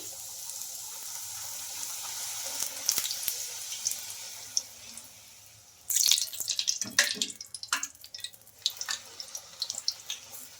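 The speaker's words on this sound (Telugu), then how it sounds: "పూరీలు అయితే ఇంకా రెండు వైపులా మంచిగా కలర్ వచ్చే వరకు ఫ్రై చేసుకోవాలి" Puris made from leftover rice dough sizzle and crackle in hot oil, a steady fizzing hiss with sharper bubbling bursts as each piece fries.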